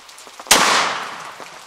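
20 gauge shotgun slug fired from a Savage Model 67 pump at a 2-liter bottle outdoors, a single sharp, loud blast that decays quickly, preceded by faint quiet background.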